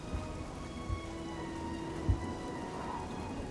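Rain falls steadily in the game The Elder Scrolls IV: Oblivion, a soft, even hiss of drops with a few low dull thumps, fairly quiet and without any speech.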